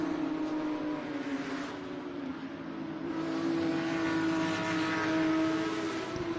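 GT race cars lapping the track at Lime Rock in the closing stages of a race, a steady engine drone with rising and falling passes from mid-distance and no talking.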